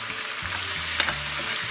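Food cooking in a pan alongside broccoli, giving a steady hiss of frying with a few brief stirring scrapes near the middle, all close and fairly quiet, with no one speaking.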